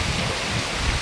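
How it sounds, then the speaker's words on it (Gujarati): Heavy rain pouring down steadily, a dense broadband hiss, close and loud without a break. "વરસાદ બહુ આવતો છે ભાઈ."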